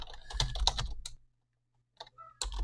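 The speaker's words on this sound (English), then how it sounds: "I typed in proxy instead of calc" Fast typing on a computer keyboard, a close run of clicky keystrokes for about a second, then a pause and a few more taps, followed by another burst of keys.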